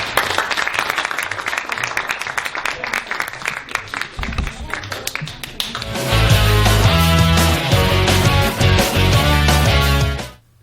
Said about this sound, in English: Clap it up on 3.